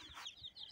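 Chickens and a rooster on a village farm give a few soft, quick clucks, faint and somewhat distant, with no one speaking.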